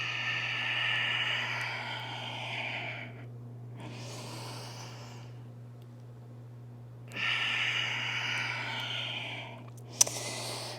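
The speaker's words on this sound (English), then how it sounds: "Keep using that Ujjayi breath." Slow Ujjayi yoga breathing, close and steady: two long, airy, ocean-like breath cycles with soft pauses between, over a faint low electrical hum, ending with a small click.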